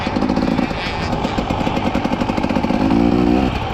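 A cross-country motorcycle revs hard on a dirt track during training, its engine loud and close with a rapid throbbing rattle that swells toward the end.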